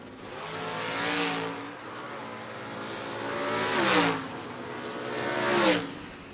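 Drag race cars, including a Copo Camaro, launch and run, engines roaring and climbing in pitch through three distinct surges, each peaking loudly before dropping off at the shift.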